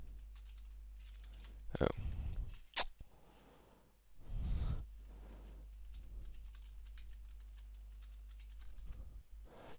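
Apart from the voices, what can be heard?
typing a password on a computer keyboard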